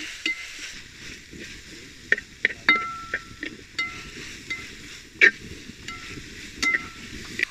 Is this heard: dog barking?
no